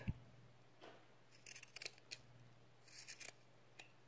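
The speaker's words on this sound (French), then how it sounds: "Je coupe et j'affine." Scissors snip through fabric for homemade sewn wipes in quiet, close bursts of crisp cutting sounds, with a faint steady hum underneath.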